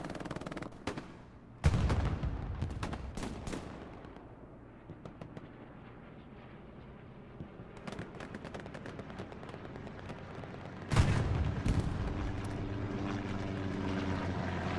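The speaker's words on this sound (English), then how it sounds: "heck of a shot there from Z4 to do so as the Puma gets destroyed." Gunfire and explosions in the World War II video game Hell Let Loose: heavy booming blasts, rattling shots and a droning aircraft engine, loud and layered, with two big impacts standing out.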